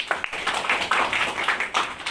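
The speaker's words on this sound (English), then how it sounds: "Give the claps" A classroom audience claps on request: scattered, uneven hand claps from several people, close and fairly bright, lasting about two seconds with no talking.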